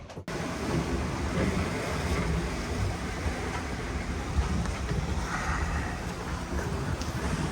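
A sailboat runs in the last of the trade wind off Cape Verde, with a steady roar of wind and rushing waves against the hull throughout and no talking.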